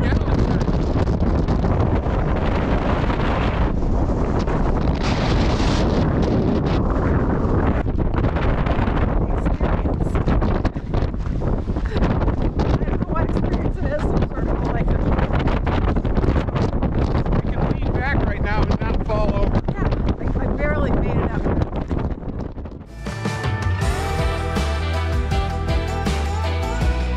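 Gusty wind sweeps across an open desert site near Las Vegas, a steady loud roar buffeting the microphone under ongoing talk for most of the stretch before it drops away near the end.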